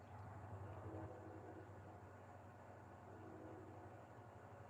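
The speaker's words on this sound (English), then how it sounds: "Can you all hear the train?" A distant train passes as a low, steady rumble, faint and continuous throughout with no voices.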